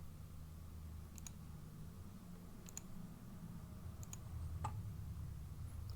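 Faint, sparse mouse clicks come in small pairs and singles at irregular intervals while mining rocks in the game 2001Scape, under a low steady hum, with no voice.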